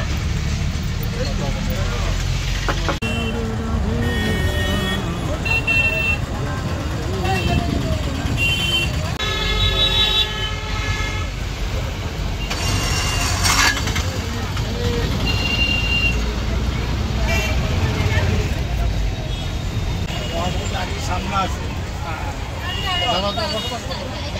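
Interior of a bus near Puri railway station, with steady engine rumble, passing traffic and scattered horn blasts throughout, plus background crowd babble and voices.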